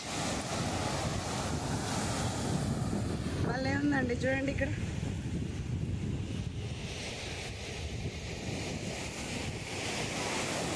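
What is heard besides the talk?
big ocean waves at RK Beach, Vizag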